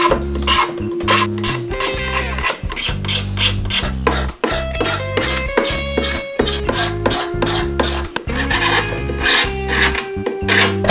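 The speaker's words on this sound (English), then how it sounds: "After the whole surface was scraped" A scraper drawn repeatedly across a wood surface being made into a weapon prop, rapid rasping strokes in a loud, rhythmic run, with steady tonal music underneath.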